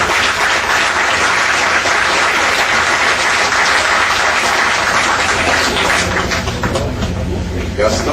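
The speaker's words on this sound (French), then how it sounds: "les applaudissements." Sustained applause from a large audience at a formal economic gathering honouring Bernard Landry, dense and steady clapping filling the room for the full stretch without a break, tapering only slightly near the end.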